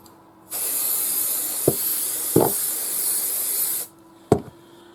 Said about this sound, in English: I just spray some temporary spray adhesive